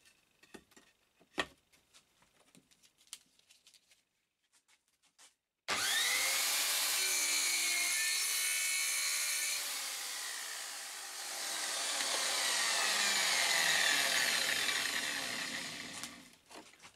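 Sporadic faint taps and clicks give way to a homemade miter saw box, its blade with five carbide tips spinning near 5000 rpm, that roars up and cuts through wood in a loud, sustained whining rasp for about ten seconds before cutting off.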